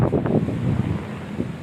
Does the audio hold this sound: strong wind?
yes